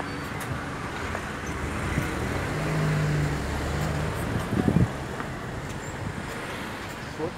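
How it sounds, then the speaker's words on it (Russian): Cars roll past on a street in Argentina beside a large parking area and construction sites, a steady road hum with one vehicle surging closer near the middle before fading back into the traffic wash. "Машины все едут, едут."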